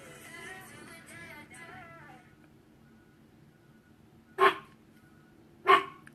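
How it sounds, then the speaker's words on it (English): Two sharp dog barks sound indoors, spaced about a second apart, after a stretch of quiet room tone with soft background murmuring. "Sorry about my dogs."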